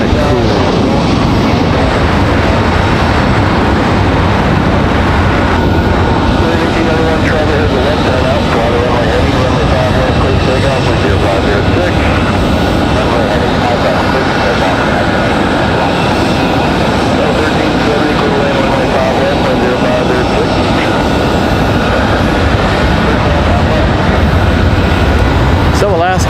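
An Alaska Airlines jet departing Raleigh-Durham International Airport for Seattle, a loud sustained engine roar that persists across the whole stretch, with people talking over it.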